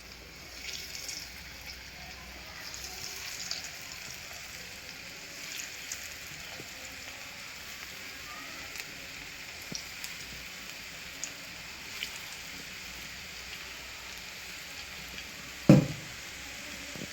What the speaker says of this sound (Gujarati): આપણે દાળવડાને તેલમાં બરોબર મીડિયમ તાપે તળી લઈશું